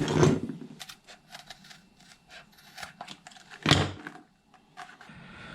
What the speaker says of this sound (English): we'll give him a little neaten up with the scissors